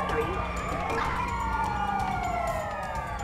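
Ambulance sirens in GTA 5 wail loudly and continuously, several overlapping tones sweeping up and down as emergency vehicles arrive, over a low engine rumble with faint voices.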